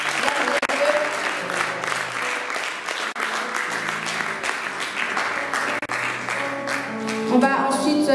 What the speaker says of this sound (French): Est-ce que tu peux m'aider à acclamer pour